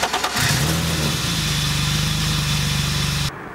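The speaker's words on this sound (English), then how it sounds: "start up the car and let it warm up to operating temperature" A BMW E30 318is fitted with a non-VANOS M50 engine cranks briefly, catches and settles into a steady, close idle that warms up for a few seconds before cutting off abruptly.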